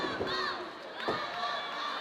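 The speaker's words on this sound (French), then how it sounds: "Et la foule qui commence à aller sur le côté de Barabas." A wrestling crowd at a JCW St-Ambroise show roars steadily for Barabas during a Shelton Benjamin match, a loud continuous cheer swelling from the stands, with brief shouts rising above the din.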